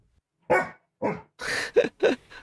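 A dog barks five times in quick succession, close and loud, sharp separate barks with short gaps of silence between them and no voices.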